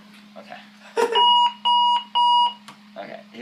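A Super Sonic Boom alarm clock sounds three loud, even electronic beep bursts in a row, close by, with people talking quietly before and after.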